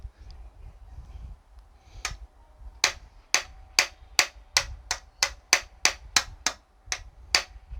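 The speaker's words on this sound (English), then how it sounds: "this part here is a bit high, so I'm gonna hammer it" A hammer taps a high fret wire into a guitar neck during a refret, with a dozen sharp, close metallic-wooden knocks in a quick, steady rhythm after a quieter opening.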